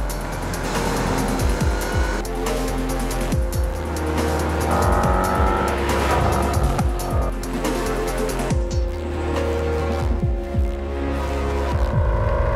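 A Range Rover Sport SVR prototype drives hard around the Nürburgring, its engine roaring steadily with repeated gear shifts and tire squeal through corners, loud and continuous throughout.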